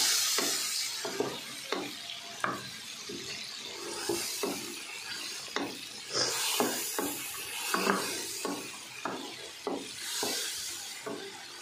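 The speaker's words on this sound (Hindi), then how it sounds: "इसको अच्छी तरह से हम भून लेंगे" Yogurt paste for beef nihari is stir-fried in a pressure cooker, a soft sizzle under a long series of regular spoon knocks and scrapes, close and unaccompanied by speech.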